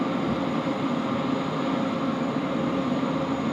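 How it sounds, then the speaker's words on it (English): A Rex airliner departs Sydney Airport, its engines a steady, broad roar that holds even and loud throughout with no talking. "we got Rex departing downfield."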